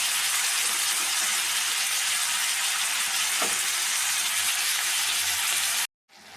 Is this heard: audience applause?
no